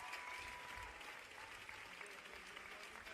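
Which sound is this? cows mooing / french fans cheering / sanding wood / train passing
french fans cheering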